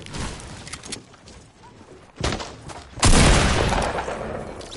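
Gunfire in a PS4 shooter game during a live broadcast: several bursts and loud shots, including a heavy blast about halfway through, followed by sustained intense firing near the end.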